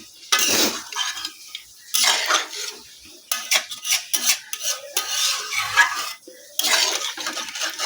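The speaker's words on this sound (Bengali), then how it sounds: "পানি দিয়ে ভালো করে মিশিয়ে নিচ্ছি।" A spoon stirs country chicken curry in a metal pot after water is added, giving repeated close scraping and clinking strokes in uneven bursts separated by short pauses, with no talk.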